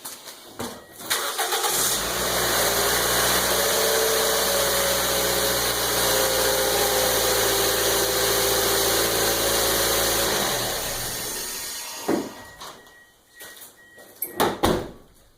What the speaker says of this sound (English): we'll go start the car up